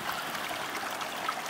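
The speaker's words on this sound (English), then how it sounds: "we have just plain water here coming out" Hot spring water flows out over rocks in the Seltun geothermal area, a steady, close trickling rush with no speech.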